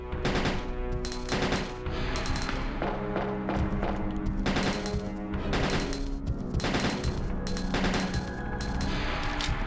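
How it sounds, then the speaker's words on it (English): Heavy thumping footsteps of a pursuer in Resident Evil 2 (1998, Japanese version) on hard mode, a dense run of loud thuds and impacts under the game's steady din, with no voices. "Now you can just hear his loud ass thumping."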